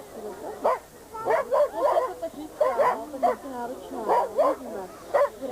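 Sled dogs bark and yip in short, excited bursts at the start of a race, close by and repeating in an uneven rhythm with whining between the barks.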